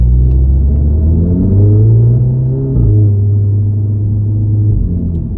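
A 2016 Audi S3 accelerates, heard from inside as a loud, close engine drone that climbs through a gear, dips at a shift, then pulls steadily again, with no speech.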